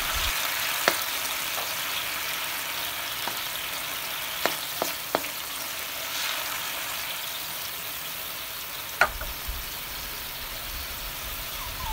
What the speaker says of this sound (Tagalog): ibubuhos na natin ang ating pinaghalong sauce kanina. Hintayin na natin kumulo konti.